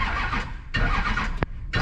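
A Chevy LBZ Duramax truck engine cranks and cuts out in repeated bursts, a loud nearby churning that stops and restarts with a brief sharp click between attempts.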